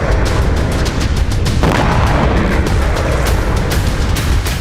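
A small drone strikes the unarmoured top of a Russian T-72B3 tank, setting off an explosion: a loud, continuous booming roar with repeated sharp bursts and crackles throughout.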